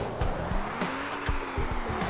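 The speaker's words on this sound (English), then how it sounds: "Oh, the truck wants to run you over, Ron." Truck and car colliding in the video game Turbo Dismount, with a 49 Cadillac involved: a string of sharp crunching impacts over a sustained engine drone, loud and close with no talking.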